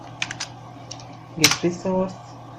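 Several quick keystrokes on a computer keyboard while writing Android Studio code, sparse clicks in short bursts with a louder cluster near the end, close and fairly clear.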